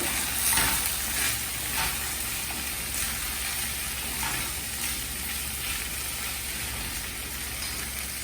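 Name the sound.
potatoes, cauliflower and peas added to sizzling pot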